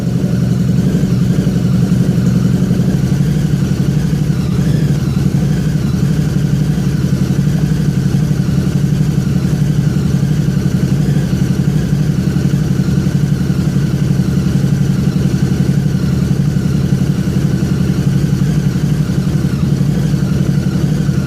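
Harley-Davidson V-Rod engine idling steadily after a tuner flash, a loud, close, even low rumble with a light mechanical clatter running unbroken throughout.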